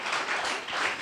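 A church revival gathering audience claps loudly at night. The applause comes as a dense, continuous patter that swells in waves across the short moment.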